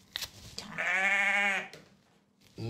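A sheep gives one loud, close, drawn-out bleat lasting about a second, with faint brief noises before and after.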